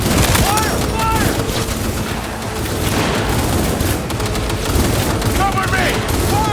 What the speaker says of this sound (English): Opening fire! They're opening fire!